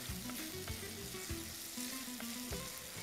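Green chillies sauté in a hot pan for a thokku, a steady close sizzle and frying crackle with occasional stirring scrapes of a spoon, no voices over it.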